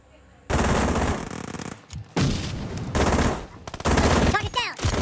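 Rapid automatic gunfire in PUBG Mobile played on a Samsung S9+, with loud sustained bursts broken by short pauses and a few sharper single shots near the end.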